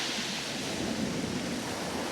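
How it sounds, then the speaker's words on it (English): Rain falling on the shore during sea fishing at Pevensey Bay, a dense, steady hiss mixed with a low wash of the sea, continuous and moderately faint, with no voices. "There's a bit of rain coming through now as well."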